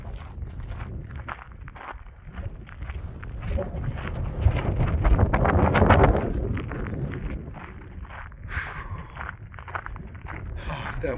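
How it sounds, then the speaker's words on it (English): Cold wind gusts across a volcano hiking trail on a chilly afternoon, buffeting the microphone with a rough low rumble that swells and fades, while footsteps crunch and a person talks intermittently. "If that wind would quit, it'd be so nice."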